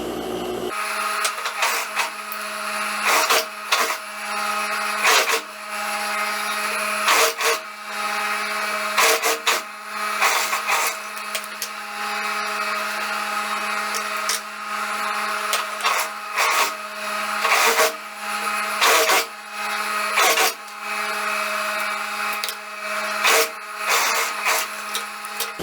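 A sewing machine runs the side seam of a lined skirt, loud and close, in a continuous whirring drone broken by brief stops and restarts over many stitching runs, no speech.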